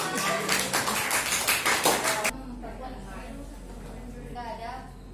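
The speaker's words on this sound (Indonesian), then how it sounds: "tepuk tangan dulu" A short burst of applause from a classroom audience during a group presentation, several seconds of clapping that cuts off abruptly, followed by quieter room sound with a voice speaking.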